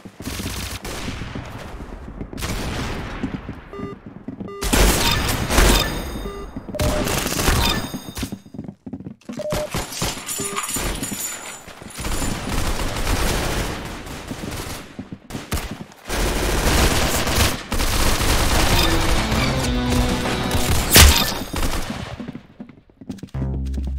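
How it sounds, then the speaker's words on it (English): Rapid gunfire from the Roblox Arsenal shooter game, with bursts of automatic and single shots clustered in loud, dense volleys across most of the stretch and brief gaps between exchanges. "Very good shooting."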